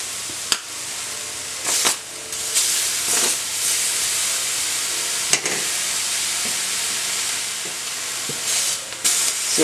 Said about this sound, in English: And now we're going to go ahead and add our Canadian bacon to the same pan.